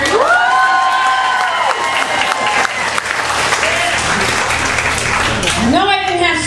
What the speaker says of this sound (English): You can clap a little harder.